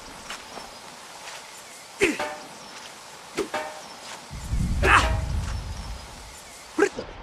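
A dog barks in the World War I video game Valiant Hearts: The Great War, giving several sharp, separate barks spaced a second or two apart, with a low rumble in the middle and no talking.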